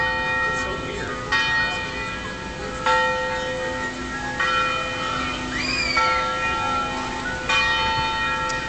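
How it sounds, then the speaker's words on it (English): Church bells ring across a city neighborhood in Williamsburg, with repeated loud resonant strikes overlapping and sustaining into a rich ringing tone; faint voices are audible beneath. "take videos of church bells ringing all over the city"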